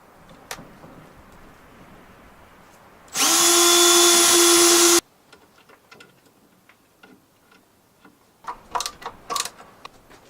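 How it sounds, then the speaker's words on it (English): A power drill drives a screw into a wooden box, one loud whining burst of about two seconds, with quieter clicks and handling knocks before and after. "I've just been putting 4 screws in here, so I figure I'd keep it a little sturdier"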